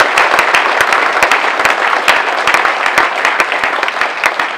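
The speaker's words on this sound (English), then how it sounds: "let's get one more round of applause first for our Education Award recipients." Steady applause from a crowd at an engineers' awards banquet and hall of fame ceremony, many hands clapping loudly and continuously.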